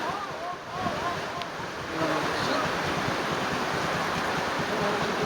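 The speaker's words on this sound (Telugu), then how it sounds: "ఫుల్ రైనింగ్, వర్షం పడి" Heavy rain pours and floodwater surges across a road near Mahabubnagar, a dense continuous roar of rushing water that swells slightly partway through, loud and close, with no one speaking.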